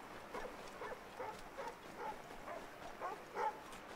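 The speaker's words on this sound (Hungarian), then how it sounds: "A kutya ugat egy macskát." A dog in the video game Assassin's Creed III Remastered barks repeatedly at a cat at a distance, short sharp yaps spaced through the clip over a steady background hiss.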